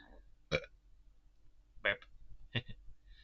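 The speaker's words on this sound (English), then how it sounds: "Burp." A few short, throaty burps, three separate bursts with quiet gaps between them.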